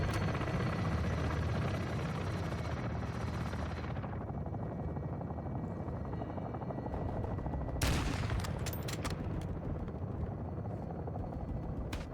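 Modern Warfare II combat scene with a helicopter's steady loud rotor drone throughout, joined midway by bursts of rapid machine-gun fire and scattered shots.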